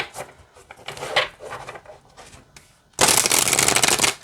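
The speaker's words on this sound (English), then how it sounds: "let's see how it shuffles" A deck of oracle cards is shuffled: soft handling and riffling at first, then a loud, dense burst of card riffling close up during the last second and a half.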